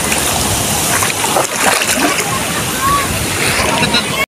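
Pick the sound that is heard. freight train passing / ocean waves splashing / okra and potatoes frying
ocean waves splashing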